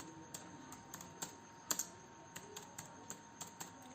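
Code being typed on a computer keyboard in a quiet room: a dozen or so separate key clicks at an irregular pace, close and fairly soft, with one louder double strike in the middle and no talking.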